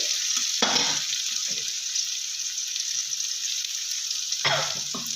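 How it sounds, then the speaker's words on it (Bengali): Brinjal fries in a pan with a loud, continuous hiss of hot oil, close by, with a few brief stirring or turning knocks near the start and end; nobody talks. "আমি এখানে দেখো বেগুনটা খুব সুন্দর লাল লাল করে ভেজে নেবো"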